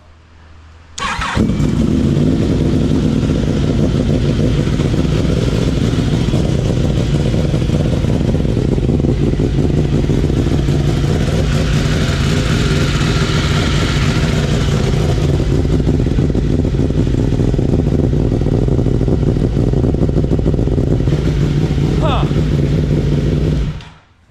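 On a crotch rocket three-wheeler build, the engine starts with a sudden burst, then runs loudly and steadily for over twenty seconds, with only slight changes in pitch before it cuts off.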